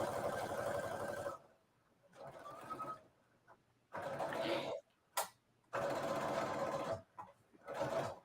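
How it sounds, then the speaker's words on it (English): Sewing machine stitching a straight line of textured holiday fabric, several loud bursts of rapid mechanical stitching separated by brief pauses, with quiet handling sounds and faint voice between runs. "And then you're just sewing the other line."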